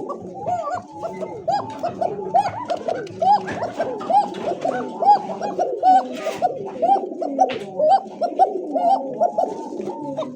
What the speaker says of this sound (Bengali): তো দর্শক আরও এক জোড়া কোকা আছে, ডাকটা শুনেন আগে।